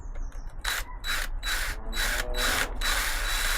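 A power drill with a 6mm bit whines in repeated bursts, starting and stopping about five times as it bores into a metal tag, close by and fairly loud.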